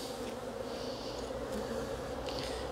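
Honey bees hum steadily and continuously inside an Abelo poly hive, a close, dense buzz that fills the whole stretch with no voices.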